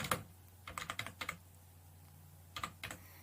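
Code being typed on a computer keyboard, faint clicking keystrokes in short quick bursts separated by pauses, close and quiet with no talking.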